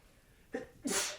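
A single close sneeze with a sharp intake of breath first, then a loud, breathy burst as it releases, with no talking over it.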